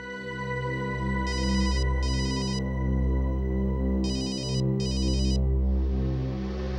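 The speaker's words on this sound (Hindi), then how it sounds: "किसका फोन है" A telephone ringtone trills in two short double bursts over a sustained musical drone during a crime drama scene, fairly loud and close, with no talking.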